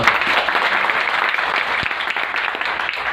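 Loud, sustained applause from a crowd at a political event in Bihar, India, dense clapping filling the whole stretch at a steady level with no voices on top.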